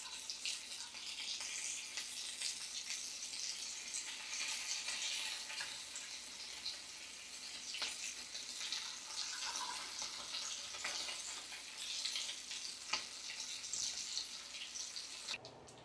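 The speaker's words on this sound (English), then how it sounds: "we're going to actually flip the bacon to the other side so that we can cook the other side of the bacon" Strips of bacon sizzle in a pan with a steady, faint hiss and occasional pops and crackles that carry on without a break for the whole stretch.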